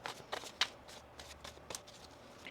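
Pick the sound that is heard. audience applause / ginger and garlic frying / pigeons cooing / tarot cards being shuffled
tarot cards being shuffled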